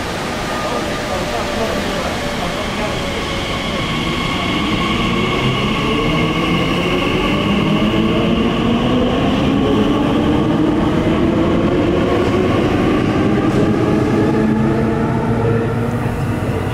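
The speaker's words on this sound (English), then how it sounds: "The train approaching platform A is the service to Abbey Wood." A Class 345 Purple Line train runs into the platform at Custom House, a loud sustained rumble with rising and falling whine tones building as it nears, under a public address announcement.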